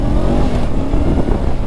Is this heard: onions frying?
no